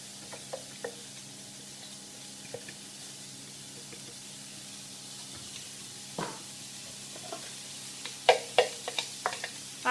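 A chopped red onion sizzles quietly in a pan alongside softening peppers under a steady low hiss, with occasional clicks and scrapes of stirring that grow more frequent near the end.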